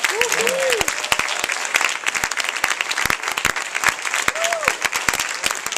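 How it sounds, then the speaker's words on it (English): An audience claps loudly and steadily for several seconds, a dense crowd applause with a few brief voices rising through it. "Give yourself a hand clap."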